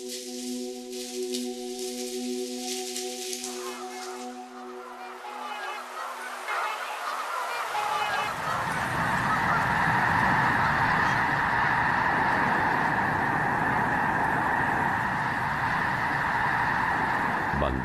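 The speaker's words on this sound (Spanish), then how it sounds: "Bandadas de gansos azules y otras aves huyen de la llegada del invierno." A steady tone fades out, then a large flock of migrating blue snow geese honks continuously in a dense, noisy chorus over the prairie that fills the rest of the time.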